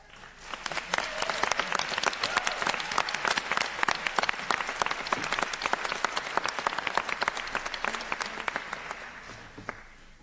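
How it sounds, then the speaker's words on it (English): An audience at a fashion startup pitch event claps loudly, the applause swelling quickly and holding as a dense, crisp patter before thinning out near the end. "And if we could give one more big round of applause for all of our startups."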